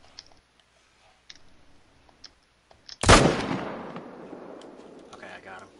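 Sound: rifle gunshot in a hunting video game

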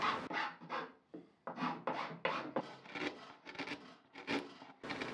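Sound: filing wood flat on a bookcase

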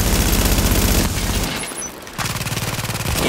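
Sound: turret gunfire in The Division video game

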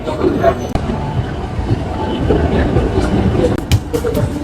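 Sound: metro train riding

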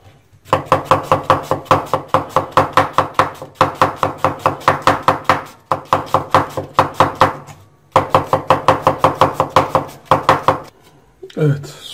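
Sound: chopping onions with a knife

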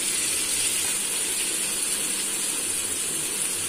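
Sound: chopped onions frying in melted butter

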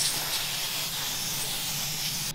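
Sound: spraying etch primer onto car panel

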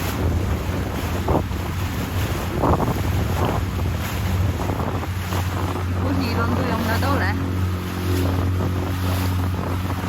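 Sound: ocean waves and wind at sea

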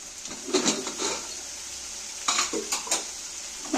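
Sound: spice masala being stirred and fried in a pan

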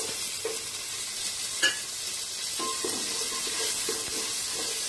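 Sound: soaked cashews frying in oil with green chillies

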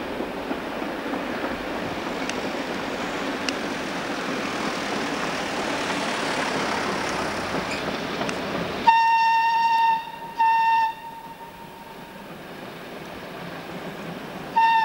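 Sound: class 245 locomotive hauling a freight train

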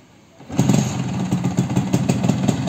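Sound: Vespa scooter engine starting

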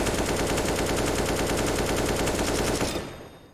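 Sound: gunfire from a weapon in video game Battlefield 4

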